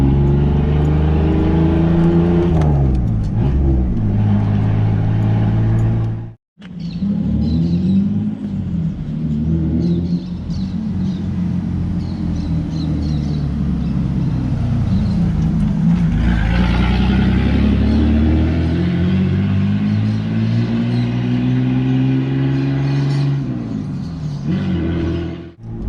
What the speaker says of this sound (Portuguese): Vamos ouvir o V6.